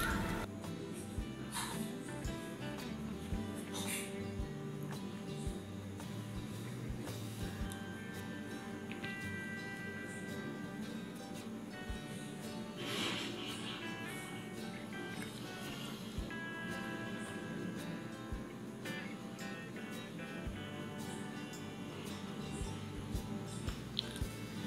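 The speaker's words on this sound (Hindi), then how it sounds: "मैं आपको एक फोड़ कर उसमें मसाला और पानी भर के दिखा देती हूँ" Crisp pani puri shells are cracked open and filled with masala and spiced water, giving soft crunches, squishy wet sounds and drips close up over a quiet background.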